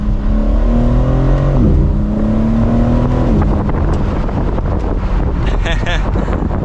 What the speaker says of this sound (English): let's do another acceleration though with the top down. See if we can hear that exhaust a little bit better.